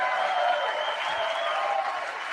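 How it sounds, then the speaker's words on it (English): A live audience cheers and applauds in a steady, full wash of clapping and voices that stays loud throughout the short moment, with no clear talk on top. "technically they are cheering for him there"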